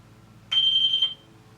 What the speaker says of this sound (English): If it beeps, there's voltage going through there.